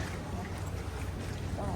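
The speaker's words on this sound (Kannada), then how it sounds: "ಇವಾಗ ಈ ನೀರೊಳಗಡೆ ದೋಣಿ ಸಾಗಲಿ ಮುಂದೆ" A gondola glides along a Venice canal, giving a steady, close wash of water and wind rumble through the short stretch, with faint voices in the background.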